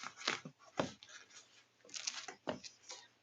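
Several soft, tacky peeling sounds in an irregular rhythm, like bare feet lifting off a smooth floor, close and quiet.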